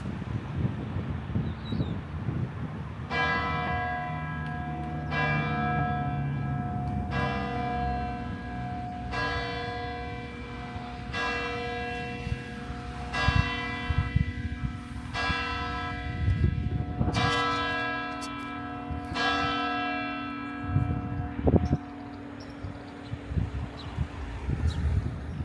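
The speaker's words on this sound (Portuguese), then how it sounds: "Isso que você acabou de ouvir são os sinos da Basílica de Cherbourg" The bells of the Basilica of Cherbourg, Normandy, ring out in a steady series of tolling strikes, one roughly every couple of seconds, with wind rumbling over the microphone throughout.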